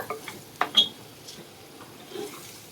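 Prawns being stirred into masala in a pan over a low flame, with a few soft scrapes and clinks standing out against quiet background.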